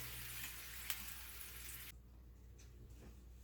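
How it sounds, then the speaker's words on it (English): Butter melting in a pan for a home-cooked weekend dinner gives a soft, steady sizzle that drops to a quieter hiss midway, with a couple of faint clinks. "3 tablespoons of butter. Get this melted in here."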